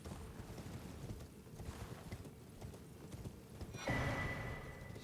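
Horse hooves clop in a video game, a quick run of footfalls under wind-like ambience, followed by a brighter whinny or rushing burst near the end; no one speaks.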